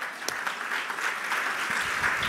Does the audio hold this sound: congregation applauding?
yes